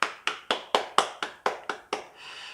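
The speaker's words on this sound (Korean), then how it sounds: "예, 박수." One person clapping hands during a design walkaround of the new Hyundai Avante (CN7): nine crisp, evenly spaced claps close to the mic, with no talking.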